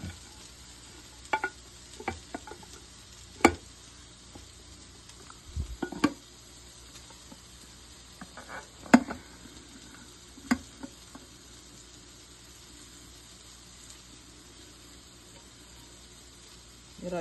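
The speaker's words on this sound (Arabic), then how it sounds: "الرز كده خلاص اهو. هنعمل ايه بقى دلوقتي، هنقلبوه مع بعض" Rice and kofta of mixed chicken and beef being stirred together in a pan, a faint low sizzle broken by scattered scraping and tapping strokes of the spoon, with long quiet stretches between.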